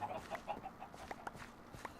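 Short, bright clucks from a chicken in the Minecraft modpack Sky Factory 3 come in a quick, uneven run of several calls over faint in-game background sounds.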